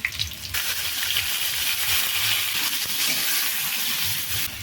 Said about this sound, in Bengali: যতক্ষণ এই মশলা থেকে তেল না বেরোবে ততক্ষণ আমাকে এভাবে নেড়ে চেড়ে কষাতে হবে